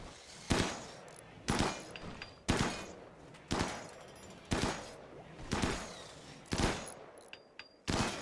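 Gunfire from the RimWorld video game: eight sharp, loud shots fired at a steady pace about one second apart, each with a short decaying tail, and no talking.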